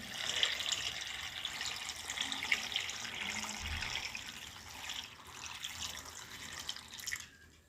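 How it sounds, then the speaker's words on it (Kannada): Water pours steadily into a cooking pot over soaking legumes in a home kitchen, a continuous close splashing stream that runs for several seconds before stopping abruptly. "ಕಾಳು ಮುಳುಗುವಷ್ಟು ನೀರು ಹಾಕಬೇಕು."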